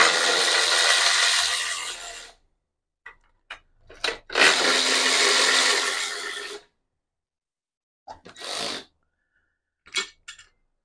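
A Ryobi power tool runs in reverse to loosen a 10 millimeter bolt while removing the carburetors from a Honda GL1100 Goldwing. Two long, loud, close whirring bursts are followed by short clicks, clunks and brief spins, with no talking.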